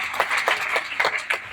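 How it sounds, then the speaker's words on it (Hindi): Crowd applause at a Hindi-language public speech or political rally, a steady wash of many hands clapping with brief louder swells, moderately loud and continuous with no voices over it. "जोरदार ताली मिलती है, जोरदार।"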